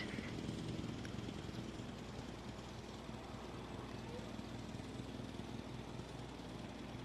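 A helicopter in Jurassic World Evolution 2 is delivering an asset. Its rotor and engine make a steady, dense drone that holds at an even level from start to finish, with no clear voice over it.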